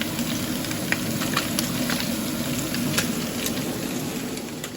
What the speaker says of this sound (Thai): เราก็จะมาผัดเห็ดนะคะกระทะนี้ก็เป็นกระทะที่ย่างเบคอนเมื่อกี้น้ำมันก็น้ำมันเบคอนเลยนะคะ